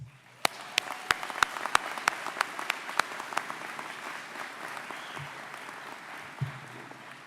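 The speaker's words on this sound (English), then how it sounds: "let's give a round of applause to the parents, guardians, friends, and family members who are here tonight." Commencement audience applauding for parents, guardians, friends and family, a broad sustained clapping wash from a large crowd with a few sharp claps standing out early, fading slightly toward the end.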